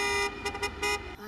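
Car horn in the film Mrs. Doubtfire sounds in several short, bright honks with a sustained tone underneath, loud and close, with no talking over it.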